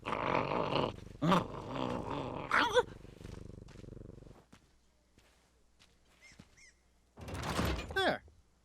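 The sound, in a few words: dog Spiffy growling in a video game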